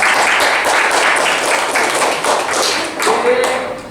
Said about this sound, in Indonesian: Marilah kita kasih tepuk tangan untuk kelompok 3